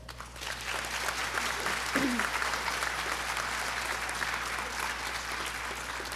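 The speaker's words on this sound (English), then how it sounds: "Let us give them a round of applause" Applause for graduating summer school students at a school commencement ceremony, a continuous even wash of many hands clapping in a large space, moderately loud from start to finish.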